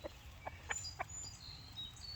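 Chickens on a homestead cluck in short, soft bursts at close range, with a few faint chirps in the quiet morning air.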